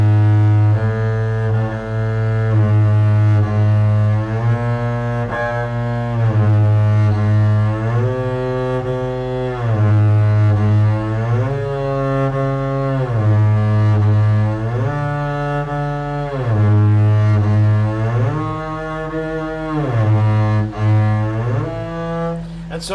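A bowed string instrument plays a slow, steady shifting drill, pairs of notes per bow stroke sliding up by half steps from first to second finger, sustained and close with audible pitch glides between positions.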